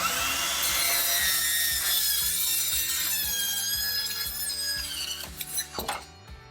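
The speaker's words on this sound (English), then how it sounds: "Using a Hilti metal cutting saw is the best way to do it. You can cut through the whole T." A Hilti metal-cutting saw cuts through a metal ceiling cross tee with a loud, high, whining screech over a rhythmic low grinding chatter that holds steady, then breaks up and fades as the cut finishes.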